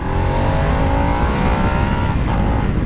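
Harley-Davidson Nightster motorcycle with a Revolution Max engine running steadily on a test ride, a loud, even engine drone with smooth harmonic tone throughout and a slight pitch shift near the end.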